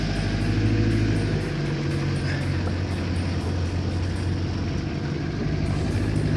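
A Mazda diesel engine runs with a loud, steady, close rumble and a constant low drone that lasts throughout.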